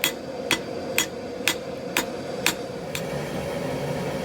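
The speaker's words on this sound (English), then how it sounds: "it's not moving very much under the hammer" A hammer strikes a crucible steel ingot being forged into bar stock at welding heat, seven sharp ringing blows spaced evenly about half a second apart, then a low steady hum continues alone.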